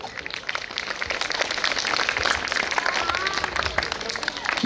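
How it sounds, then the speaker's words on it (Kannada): A crowd applauds at a village temple fair, the jatra festival of Sri Tontadarya Viraktamath in Aralikatti, Belagavi taluk, with steady dense clapping that swells and holds while voices carry over it. "ಜೋರಾದ ಚಪ್ಪಾಳೆ ಬರಬೇಕು"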